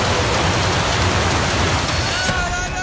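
Floodwater surges through a street in a steady, loud, roaring wash that never lets up, like heavy rain or a waterfall.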